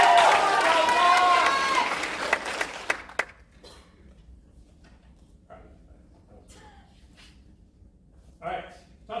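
At a Latin Certamen quiz competition, the audience breaks into cheering and clapping that is loud at first and then quickly dies away into a quiet room with scattered small noises.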